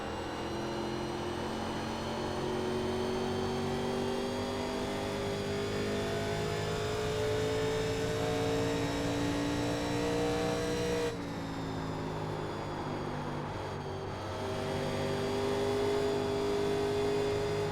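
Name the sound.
NASCAR race car engine in iRacing video game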